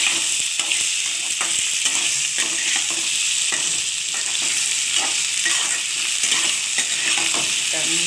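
Potatoes and pointed gourd frying with spices and garlic in a pan, a loud, constant sizzle with frequent spatula taps and scrapes throughout.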